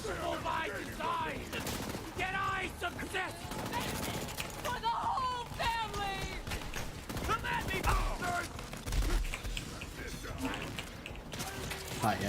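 Gunfire bursts from the Borderlands 3 video game, rapid shots and mechanical weapon clatter crowding a busy mix, with a voice talking over the action throughout.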